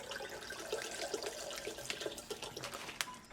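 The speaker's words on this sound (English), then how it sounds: "we're going to fill the strawberry lemonade mixture with some ice cold water" Ice cold water pours continuously into a strawberry lemonade mixture, a steady splashing gurgle with small bubbly accents, fairly quiet and with no voices.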